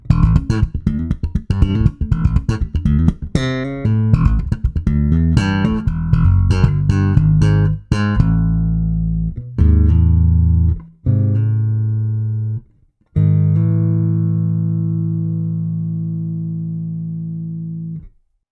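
Bass guitar notes played in a busy run through a Trace Elliot Elf bass head with gentle compression, then slowing to a few long sustained notes with even, controlled volume.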